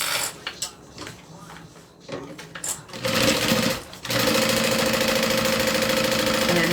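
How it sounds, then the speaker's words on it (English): A sewing machine stitches through several lined fabric layers of a backpack, starting with quiet handling and short bursts, then running steadily in a loud continuous mechanical whir, with voices heard faintly early on. "this is just sewing all those layers together"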